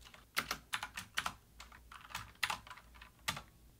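Someone types code on a computer keyboard, with several quick bursts of close, crisp key clicks and short pauses between them, quiet and with no voices.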